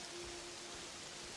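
Steady rainfall hisses in the Pokopia video game, a soft continuous wash of drops with a faint low hum beneath and no voices.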